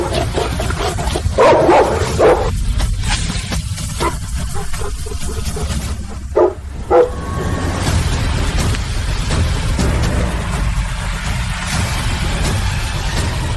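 A large dog barks and snarls while attacking a pregnant woman in a cartoon scene, loud and close, with repeated harsh bursts over a rumbling, busy background and no clear talk.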